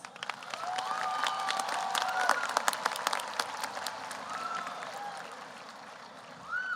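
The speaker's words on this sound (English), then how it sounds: "Please give them a round of applause." A graduation audience at a high school ceremony breaks into steady applause, many hands clapping together across a large hall at moderate distance, with faint cheers and whistles rising above the clapping.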